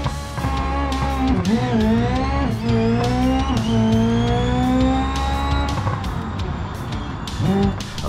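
A tiny 4-cylinder 200BX drag car in BeamNG revs hard and climbs through several gears, each shift marked by a dip in pitch, with a rattling, buzzing engine note that stays loud and close throughout.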